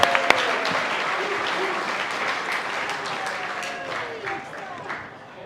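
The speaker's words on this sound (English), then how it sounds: "Ladies and gentlemen, please give a big round of applause." Audience applause at an end-of-year event, sustained clapping from a crowd that slowly fades, with voices faintly underneath.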